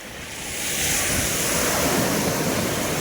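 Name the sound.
sea waves washing onto the beach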